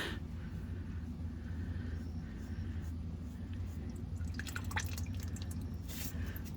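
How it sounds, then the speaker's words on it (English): Engine oil dripping from the drain of a high-mileage 1988-1999 Chevy C/K1500 5.7 V8 truck during an oil change, faint patter of drips over a low background rumble, growing busier toward the end. "You can see here, it's about to start dripping."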